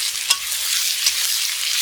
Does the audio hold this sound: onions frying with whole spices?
yes